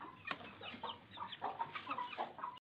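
Hen clucking in a backyard poultry coop among laying hens, a run of repeated close, moderately loud clucks in an uneven rhythm with no talking over it.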